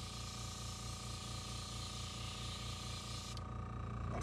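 An airbrush sprays sepia paint onto a sheet of white paper, giving a steady, close hiss that runs unbroken for about three and a half seconds before the airflow changes near the end.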